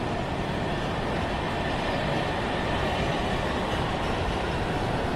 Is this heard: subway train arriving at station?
yes